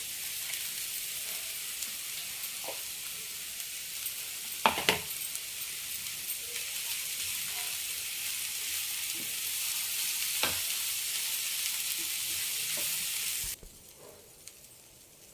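Moong lentils fry in a pan with a steady, loud broadband sizzle and a few sharp stirring clicks, cutting off abruptly near the end into near silence.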